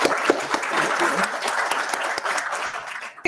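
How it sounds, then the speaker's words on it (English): Round of applause from attendees at an annual meeting, many hands clapping close and lively, with sharp individual claps standing out, tapering off near the end. "if you would just join me in a round of applause for them"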